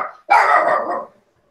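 One loud bark from a dog in a living room, a single sharp burst lasting under a second after a short quieter sound, then silence.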